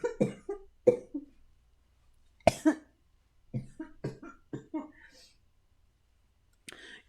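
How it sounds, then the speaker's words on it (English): A string of harsh, wet bronchitis coughs bursts out in clusters after laughing, close up, with short pauses and a throat clear between them, then a final rough cough. "You guys hear my bronchitis cough?"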